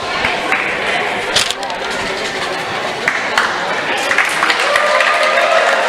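A crowd applauds a wrestler after a match at a school wrestling meet in a gym, with scattered claps and cheers mixed with crowd chatter and a voice over a PA.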